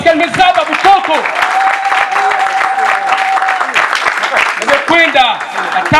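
Applause and cheering ring out at a customary wedding ceremony, with dense clapping running throughout, loud voices calling over it and a sustained tone, likely singing or ululation, woven through the crowd noise.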